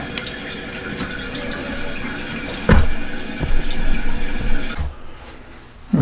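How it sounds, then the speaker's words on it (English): Water rushes steadily into a newly plumbed toilet tank in a home addition build, a continuous close hiss and gurgle with a brief clunk partway through and a quieter trickle near the end. "Tank is filling,"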